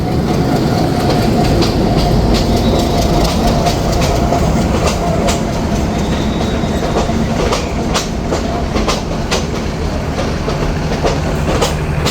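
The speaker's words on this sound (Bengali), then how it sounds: "পদ্মরাগ কমিউটার লালমনিরহাট থেকে ছেড়ে আসা সান্তাহারগামী সেটা এখন কাউনিয়া জংশনে প্রবেশ করলো" The Padmarag Commuter train from Lalmonirhat, bound for Santahar, rolls into Kaunia Junction with loud, close rhythmic clickety-clack of wheels over rail joints, heavy rumbling and sharp metallic clanks, no voices.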